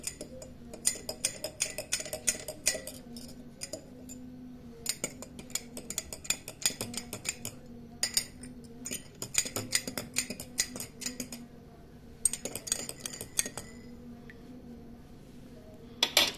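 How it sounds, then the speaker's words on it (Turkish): A spoon stirs honey into milk in a cup, giving quick bursts of light metallic clinks against the glass, close and quiet, separated by short pauses, with no talking. "Balı içine bıraktıktan sonra biraz karıştırıyoruz."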